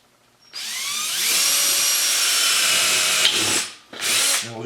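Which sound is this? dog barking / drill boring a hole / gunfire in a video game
drill boring a hole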